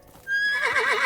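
A horse in a video game gives a loud, close whinny, a single shrill wavering neigh that rises and trembles before trailing off.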